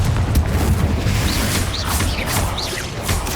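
A Confringo fire spell bursts in Hogwarts Legacy with a dense, continuous explosive roar that stays loud throughout, broken by whooshing magical swishes and crackling impacts.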